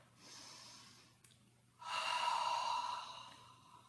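Someone doing a pilates exercise breathes audibly and close. A soft breath is followed by a brief pause and a short catch. Then a longer, stronger exhale rises and fades, with no speech over it.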